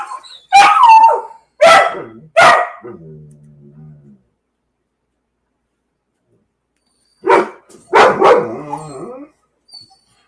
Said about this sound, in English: that was an appearance by my dogs